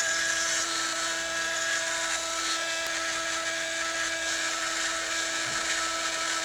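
A rotary tool carving an S-shaped inlay into white oak for an acoustic guitar headstock gives a continuous high, thin whine, steady and close throughout with no voices.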